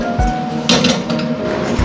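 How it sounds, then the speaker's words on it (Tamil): A metal kadai is set down on a stove for frying onion bonda, making a few close, sharp clinks and knocks of metal on metal against a quiet kitchen background. "கடாய் வச்சுக்கலாம்."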